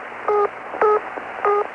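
A Luxembourg telephone network tone from a 1975 phone-line recording plays as three short, evenly spaced tone bursts, clear and steady over faint line hiss.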